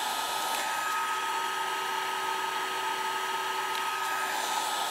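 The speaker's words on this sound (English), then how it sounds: "you can hear the fan whirring down or spinning down" A small fan inside a MOZOOSON hover ball gives a steady, high-pitched whir at constant volume, close and alone, with no audible change in pitch.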